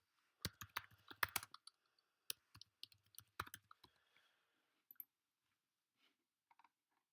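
Irregular bursts of computer keyboard typing as a web address is entered, close and crisp, with quick clustered keystrokes that thin into scattered single taps.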